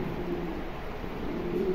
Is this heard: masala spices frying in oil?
no